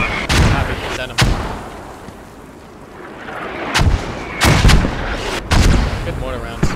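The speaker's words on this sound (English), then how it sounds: "Good mortar rounds." Mortar rounds explode one after another in a tactical multiplayer squad shooter, a series of loud, heavy booms at irregular intervals with low rumbling gaps between them.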